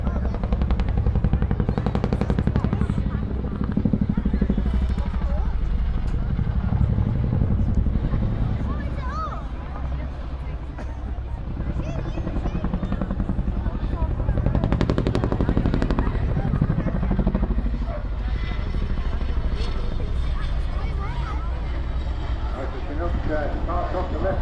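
A Chinook twin-rotor helicopter in a spiral descent, heard as a continuous heavy rotor thrum and turbine roar that swells and eases, with someone talking over it.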